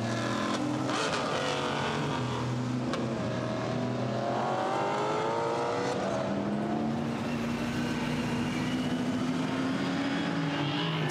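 GT4 European Series race cars roar across the start line at Misano, engines droning continuously with rising and falling pitch as the cars pass and shift, a sustained loud track sound with no talk.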